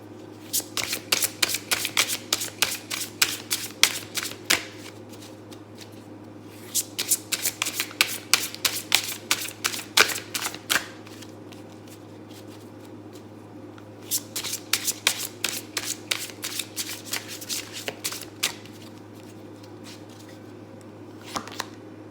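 Repeated bursts of tarot cards being riffled and shuffled, rapid crisp flutters in several rounds with short pauses between, over a steady low hum.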